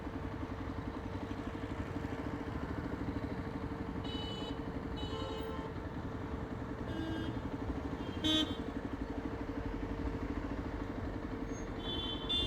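A motorcycle riding home from work through traffic, its engine a steady continuous drone close by, with occasional brief car horn toots cutting in from nearby vehicles.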